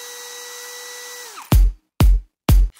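A power drill whines steadily, then winds down in pitch, followed by three heavy, abrupt bursts with deep booming lows.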